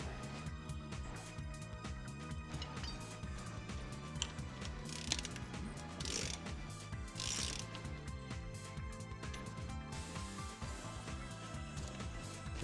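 A ratchet wrench tightens a part during a 1982 Corvette restoration, giving a continuous run of rapid mechanical clicking up close across the whole stretch, with no talking.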